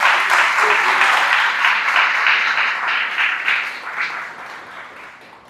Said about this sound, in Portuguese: Dá uma salva de palmas para o Espírito Santo, aleluia